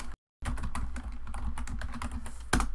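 Quick, light keystrokes clatter on a computer keyboard in a short burst after a brief pause, close and fairly quiet with no voice over them.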